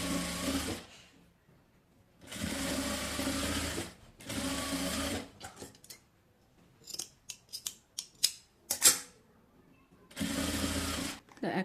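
A sewing machine stitches lace onto a sleeve in three long, steady whirring runs separated by pauses. Between the runs come sharp clicks and fabric handling.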